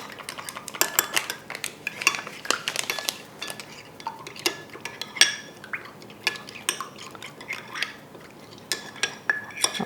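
A spoon stirs gelatine powder into cold water in a small bowl, giving repeated light clinks and scrapes against the bowl in an irregular rhythm, close and fairly quiet, with no talking.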